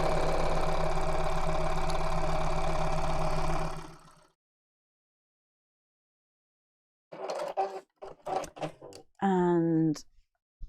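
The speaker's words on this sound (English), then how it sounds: "we'll just sew straight across the bottom" A sewing machine runs steadily while it stitches straight across the bottom of a bag, a close, even mechanical whir lasting a few seconds before stopping, after which someone talks.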